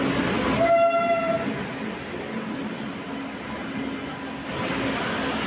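A train pulls into Jajpur station during heavy rain, a brief horn blast near the start followed by a steady roar of rolling wagons and downpour, with no voices.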